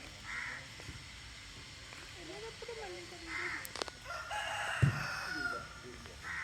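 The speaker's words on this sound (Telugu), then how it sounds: "కోడి కుక్కరకో అంది." A rooster crows once in the middle distance in a rural Konaseema setting among coconut and banana trees, against quiet outdoor background noise and a few other bird calls.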